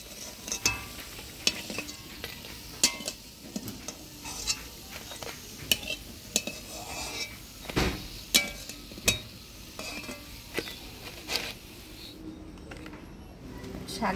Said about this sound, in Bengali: পুঁইয়ের পাতার বড়াগুলা মুচমুচা করে ভাজে নিলাম।